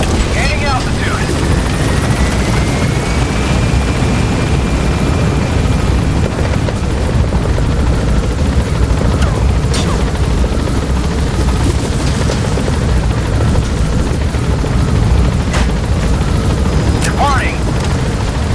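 A helicopter climbing and gaining altitude in Metal Gear Solid 5, a loud steady rotor roar filling the scene throughout, with radio-style voices speaking over it.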